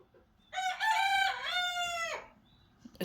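Silkie chickens crowing at a backyard coop in the morning, one long, loud, drawn-out crow close by, with faint clucking around it and no talking.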